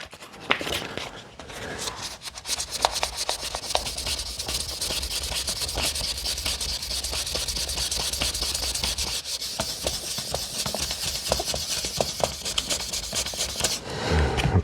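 Steady wet sanding of blistered lacquer finish on a guitar with 1000 grit paper, a continuous close rubbing hiss with quick back-and-forth strokes running unbroken throughout.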